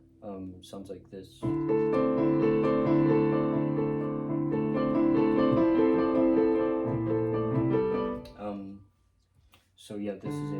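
Arpeggiated chords played on a tuned instrument, each chord broken into three sustained notes in a steady flowing pattern, close and clear for several seconds, with brief talk before and after.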